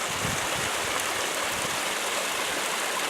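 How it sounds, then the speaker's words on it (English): A small waterfall at the Lassen Volcanic National Park gate, a steady broadband rush of falling water that stays even and unbroken throughout, with no talking. "A little waterfall coming down as we enter into the gate."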